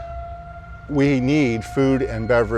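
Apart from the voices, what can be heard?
outdoor warning siren sounding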